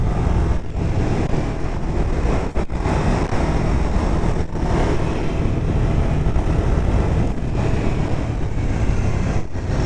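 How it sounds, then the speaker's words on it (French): Ducati 999 motorcycle with a Termignoni exhaust, its engine a loud, continuous low roar with dense rumble from start to finish, close up and heavy with road and wind noise. "Alors avec le son du Terminioni derrière, c'est encore mieux."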